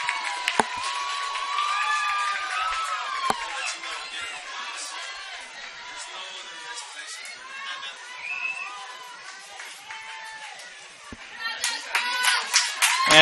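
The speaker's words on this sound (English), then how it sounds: "He gets a bump from the coach and applause on both sides." Applause from both sides of a youth T-ball game crowd, steady scattered clapping with children's chatter and shouts mixed in, growing louder near the end.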